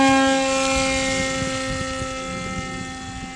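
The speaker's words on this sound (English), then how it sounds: "Let's get it in the air and see what happens." Giant RC F-117 model plane with an 11-7 propeller flying, a loud steady whining motor drone with sharp tonal hum, slowly fading as it moves away.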